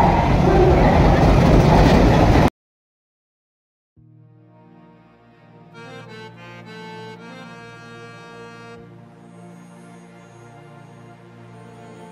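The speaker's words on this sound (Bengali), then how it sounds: "এই যে আমাদের ট্রেন লোকোমোটিভ নিয়ে আসছে" The Kabiguru Express from Howrah, hauled by a locomotive, arrives with a loud noisy rumble that cuts to a brief silence, then a steady low running drone with sustained horn-like tones and voices around.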